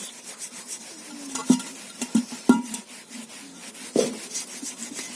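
Wire brush scrubbing a blackened pot with lemon, vinegar and baking soda, quiet rasping strokes in short irregular bursts with a few sharper scrapes.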